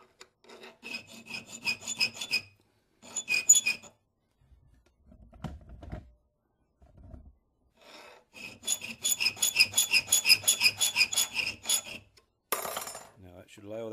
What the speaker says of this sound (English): I'm going to file a little bit here so my file will fit, then I'll take the smaller file and square that off.